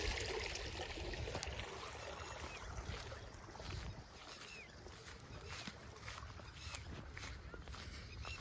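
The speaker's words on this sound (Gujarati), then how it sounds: "એમાંથી પાણી જઈ રહ્યું છે આપણા ખેતરમાં।" Irrigation water rushes steadily through a large dug channel into a farm field, a dense continuous wash that stays loud and close throughout, mixed with gusts of wind against the microphone.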